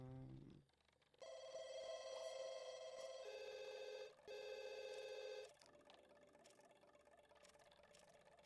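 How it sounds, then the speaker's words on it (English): A telephone rings in The Sims 2, clear electronic bursts repeating in a steady pattern, then a softer ringing tone continuing at low level; no talk. "We do not care about that phone ringing at all"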